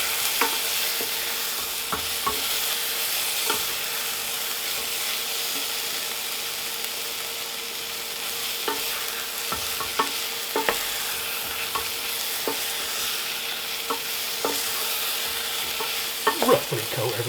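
Steak pieces for a steak and ale pie fry and sizzle steadily in a pan while flour is sprinkled in and stirred through, giving continuous hissing with scattered scraping and clinking stirs up close.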